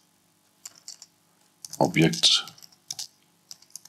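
Code being typed on a computer keyboard: a few quick, light key clicks near the start, then a person speaks over sparse tapping, with a few more isolated keystrokes at the end.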